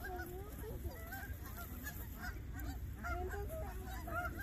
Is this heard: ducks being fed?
yes